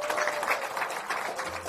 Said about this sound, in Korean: 그럼 다시 힘찬 박수로 이재명 당대표님의 모두 발언을 정해 듣도록 하겠습니다